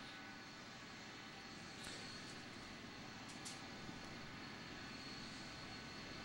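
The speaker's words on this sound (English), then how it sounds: "I still hear the jet dryers" Jet dryers roar steadily on a NASCAR race track at Richmond in a continuous, even whoosh, constant in loudness and with no voices over it.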